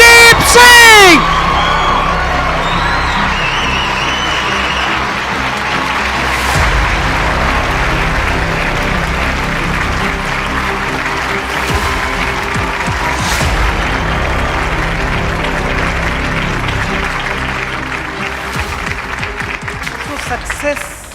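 An indoor audience at a network marketing seminar claps and cheers loudly to welcome a speaker, with whoops and dense applause holding steady before tapering off at the end.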